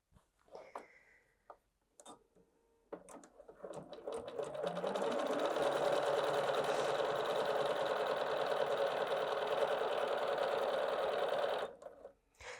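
Bernina 770 QE Plus sewing machine stitching through four layers of fabric: a steady, loud whirring run of rapid needle strokes lasting about eight seconds, with a few clicks and handling noises before and after.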